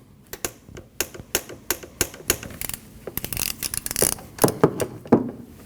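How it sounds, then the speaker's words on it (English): Ratchet tightening an ignition coil bolt on a Nissan NV2500, with rapid close clicking strokes in uneven bursts and a few louder metallic clanks toward the end. "Now tighten your coil bolt."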